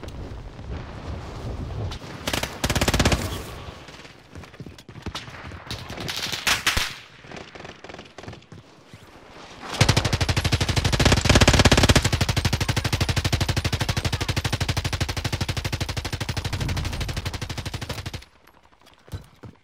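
Light machine guns fire in Warzone, with short bursts followed by a long sustained stream of loud rapid gunfire that cuts off sharply, heard without talk.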